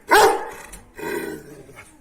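A dog gives a loud, sharp bark, followed by a softer second bark-like sound, close by.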